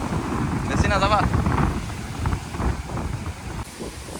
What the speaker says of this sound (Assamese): ধাৰাসাৰ বতাহ দি আছে